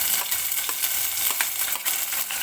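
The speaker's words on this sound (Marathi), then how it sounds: "तर तेल गरम झालेलं आहे. सुरुवातीला मी बारीक चिरलेला कांदा आहे तो टाकून घेते." Finely chopped onion hisses and crackles in hot oil, a steady close sizzle with small stirring clatters running through it and no talking.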